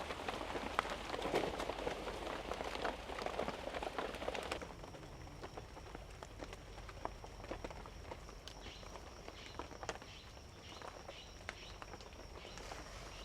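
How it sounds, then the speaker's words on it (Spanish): Thick raindrops begin falling in a forest around a hand-built cabin, scattered taps and patters over a soft wash of rain, the heavier hiss easing after a few seconds into sparser drips. "Empieza a llover y justo está empezando a llover ya. Unas gotas gruesas que está sonando ya."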